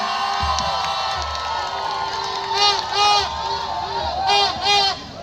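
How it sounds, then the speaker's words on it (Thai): A crowd at a Thai election campaign rally cheers and claps, with loud whoops and high shouts bursting out in repeated waves over the general crowd noise. "ขอเสียงปรบมือหน่อยครับ"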